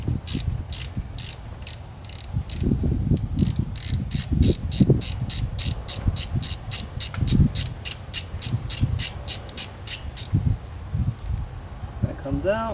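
A ratchet fitted with a 1/2 inch socket loosens a brake bolt on a 2016+ Cadillac CTS-V, clicking rapidly and steadily in a long close run while someone talks underneath with some clunks of handling.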